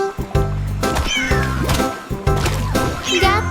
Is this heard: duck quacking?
no